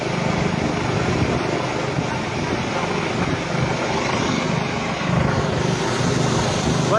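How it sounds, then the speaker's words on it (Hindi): A helicopter descending near a chairlift in Battagram: a steady, loud broadband rotor and engine roar that holds for several seconds without letting up, heard alone with no distinct voices. "बस अभी जहाज जो है हेलीकॉप्टर डाउन होता जा रहा है चेयरलिफ्ट के बराबर के सिमत में"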